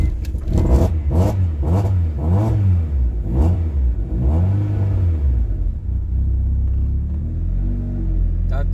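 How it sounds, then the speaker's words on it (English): A Honda Prelude on a cold start cranks in a quick rhythmic series and then catches, settling into a loud, rough low rumble as it keeps running. "after cranking it, I had to press the gas pedal so that it would fire up"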